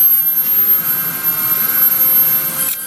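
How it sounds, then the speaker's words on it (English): A Dremel rotary tool carves western red cedar with a loud, continuous high-pitched whine, steady and close throughout, with no talk. "I'm gonna get the Dremel out and see if we can start clearing this off and make a little wizard out of them"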